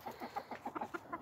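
Young roosters and a single grey hen cluck softly together on an autumn day, a quiet, steady run of short, rhythmic clucks with no talking.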